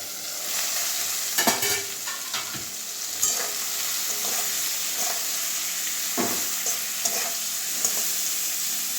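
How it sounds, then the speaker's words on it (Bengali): Bitter gourd fries in a pan that is uncovered now and then for stirring. A constant close sizzle runs throughout, broken by repeated spatula scrapes and knocks on the pan. "এভাবে মাঝখানে মাঝখানে ঢাকনাটা খুলবো আর নাড়াবো"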